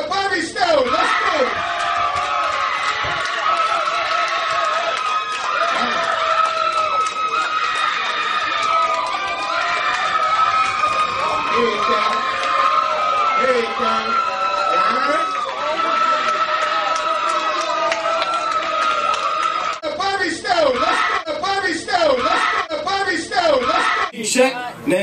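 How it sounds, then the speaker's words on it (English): Crowd at a rap contest roaring, cheering and whooping for the winner, a loud sustained wall of yells and screams close up, with a voice shouting over it and an announcer speaking. "Give it up, y'all, Bobby Stone, let's go."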